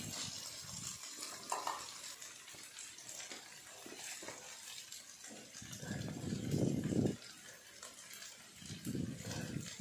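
Ginger sautéed quickly in a pan while cooking Filipino beef papaitan, a soft sizzling fry with stirring and light utensil clatter, swelling louder near the end.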